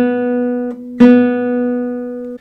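A classical guitar note played with a free stroke rings out, fading slightly before a second plucked stroke restarts it, leaving a clear sustained tone alone.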